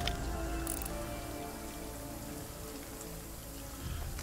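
Steady rain pours down in a video game, a dense, even hiss of drops on surfaces that runs alone throughout with no talk.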